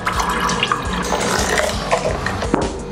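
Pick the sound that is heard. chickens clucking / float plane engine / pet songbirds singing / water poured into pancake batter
water poured into pancake batter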